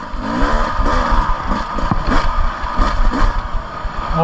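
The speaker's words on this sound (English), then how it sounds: "Yeah, what a freaking motorcycle." A 2024 Beta 300 RR Race Edition motorcycle engine revs and rumbles up close, its pitch rising and falling in surges with some mechanical clatter.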